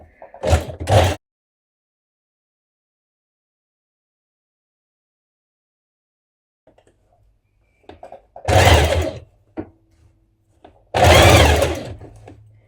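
Sewing machine stitching a seam on a Yanaka jacket with a 1.2 cm seam allowance, in bursts: a short double run near the start, then after a long quiet gap several loud close whirring runs with brief pauses.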